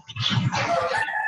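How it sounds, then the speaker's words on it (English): A chicken clucks nearby, its loud, fowl-like calls carrying steadily through a call line. "Do you have a chicken there?"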